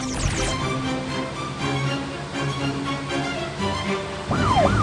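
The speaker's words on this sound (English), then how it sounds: "Firefighter Kiki is on the way!" A fire truck siren in the Baby Panda game wails and sweeps up and down at the start and again at the end, with cartoon game music and effects running under it.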